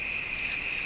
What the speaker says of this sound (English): Yeah, it's starting to hear those night sounds.